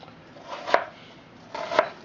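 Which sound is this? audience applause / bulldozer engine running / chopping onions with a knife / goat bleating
chopping onions with a knife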